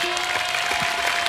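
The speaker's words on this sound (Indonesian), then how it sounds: "Kasih tepuk tangan dulu dong." A studio audience at a televised Indonesian song-guessing quiz show claps in a short, dense burst of loud applause with no speech.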